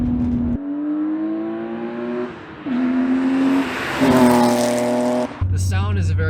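A BMW E36 M3 straight-six revs loudly and up close in several rising pulls, with shifts between them and harmonics climbing each time, ending in a lower drone.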